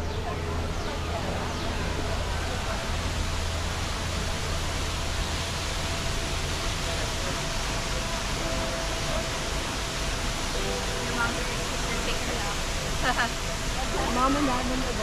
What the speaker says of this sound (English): Right here are the Minnehaha waterfalls.